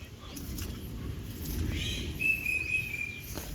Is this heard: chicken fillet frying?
no